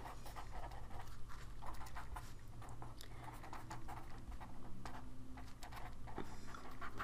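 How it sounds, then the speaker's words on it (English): A dog pants steadily and rapidly close by, a continuous rhythmic huffing with no talking. "sorry about my dog"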